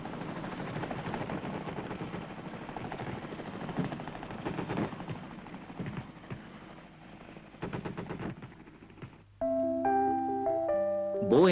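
A helicopter's rotor thrums steadily amid bursts of gunfire during a 1975 Japanese military exercise with heliborne operations, before a loud brassy musical fanfare takes over near the end.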